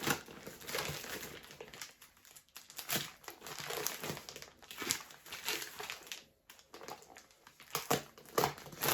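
Plastic postal parcel, soft and likely holding clothing, crinkled and crushed while being opened carefully, with irregular close crackling bursts throughout and no talk.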